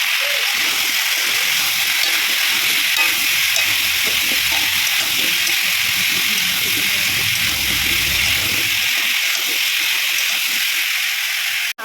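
Potatoes salted and fried in a pan for a shortcut fried rice and aloo dum, sizzling in a steady broad hiss throughout, with soft low stirring knocks underneath and no talk.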